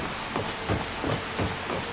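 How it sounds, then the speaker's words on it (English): Rain in the video game Skyrim, a steady broadband hiss with faint rhythmic swells, heard alone without speech. "It's raining, people."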